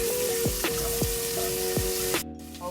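Garlic and sweet onion sizzling steadily in a hot pan for a sautéed bitter melon dish, a constant close frying hiss with a few soft clinks of a utensil before it quiets near the end.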